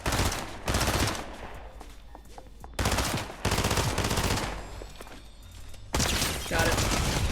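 Video game gunfire while aiming for a headshot: loud, close bursts of rapid automatic shots, some long and some short, separated by brief quieter gaps.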